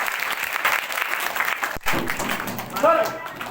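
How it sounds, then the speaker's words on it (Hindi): Loud, sustained applause from a crowd fills the room as a voice speaks over it. "और एक बार जोरदार तालियों के नाम नाकले सर के नाम। जोरदार तालियां।"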